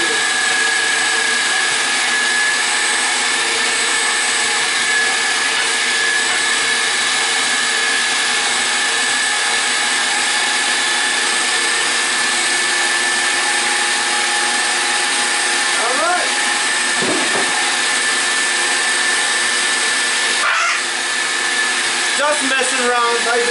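An electric meat grinder runs steadily and loudly, grinding meat for Armenian lula kebab, its motor whine holding constant throughout with a few brief shifts near the end.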